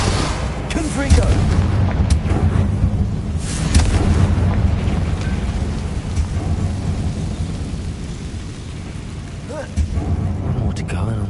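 Confringo spell explosions go off in the Hogwarts Legacy video game, sounding as booming blasts and rumbling impacts over a dense game soundscape.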